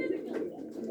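Donmara-breed pigeons coo softly and continuously at close range, a low, rounded warble with no voices over it.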